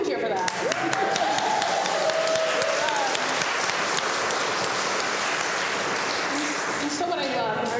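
Workshop audience applauding and cheering, a dense burst of clapping that holds steady for several seconds with a few rising whoops, then fades as a voice resumes talking.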